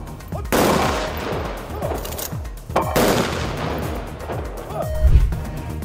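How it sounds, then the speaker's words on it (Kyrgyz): Soldiers fire three volleys of shots into the air during a WWII Victory Day 80th anniversary ceremony in Bishkek. Loud rippling gunfire bursts sound at the start, in the middle and near the end, each trailing off with echoes in an open square. "аскерлер 3 жолу асманга ок чыгарды"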